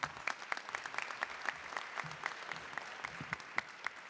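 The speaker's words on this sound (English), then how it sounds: "Let's give Peter another applause." Applause from the audience at a community anti-crime event, a fairly faint, steady patter of clapping hands with a few sharper individual claps standing out.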